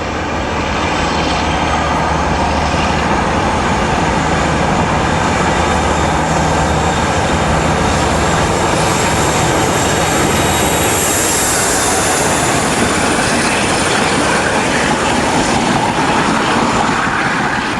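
British diesel locomotive 47525 passing at Huyton with a southbound rake, a loud sustained engine roar and rumble that fills the whole span, close and powerful.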